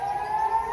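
An air raid siren sounds in Israel during wartime, a sustained steady wail held at one pitch for the whole short moment, fairly loud and with no voices over it.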